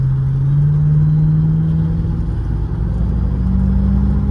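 A 2002 Mercedes E55 AMG engine accelerating at roughly half throttle on the road, a loud, close, steady drone whose pitch climbs smoothly and keeps rising.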